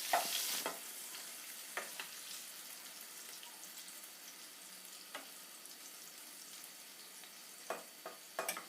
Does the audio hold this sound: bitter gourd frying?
yes